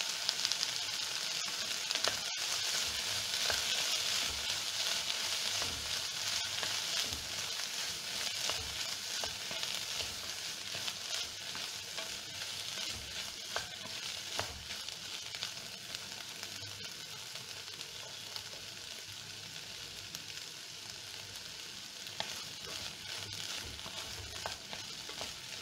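Chilli beef sizzles and fries steadily in a pan as pepper powder is stirred in, a dense continuous crackle with faint scraping of the stirring, close and even throughout, with no speech.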